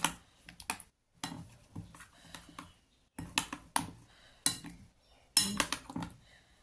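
Prawns being mixed with about two spoons of mustard oil in a bowl for daab chingri, giving a run of short clinking, scraping bursts in several separate clusters with brief pauses between them, close and fairly quiet.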